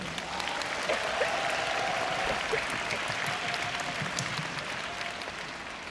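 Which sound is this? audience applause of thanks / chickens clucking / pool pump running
audience applause of thanks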